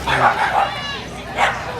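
Dogs barking close by in a few sharp, excited bursts with yips, a short whimper between them and a voice talking over them.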